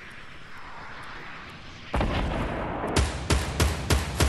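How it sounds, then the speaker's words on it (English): Rocket barrage in Fortnite Battle Royale game: a low rumbling roar builds partway through, then several loud, sharp booming blasts hit in quick succession, close and without talk. "Here come the rockets."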